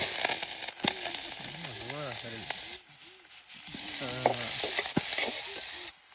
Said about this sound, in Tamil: எண்ணெய் வந்துட்டு நல்லா கொதிச்சுட்டு இனி வெங்காயம் பச்சை மிளகாய் போட்டு